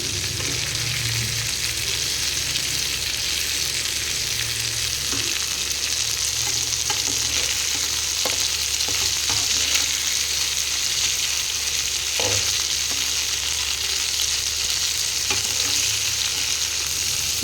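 Fish frying in a home kitchen pan, a steady loud sizzle of hot oil with occasional scraping and stirring clicks, continuous throughout with no voices.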